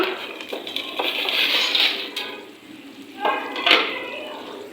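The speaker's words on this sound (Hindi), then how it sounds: "और इसको थोड़ी देर के लिए हम भूनेंगे, मतलब कि फ्राई करेंगे इस बटर के अंदर।" Vermicelli frying in butter in a pan over low heat gives a steady close sizzle, with utensil scraping and stirring rising and falling in waves and a brief metallic clink near the end.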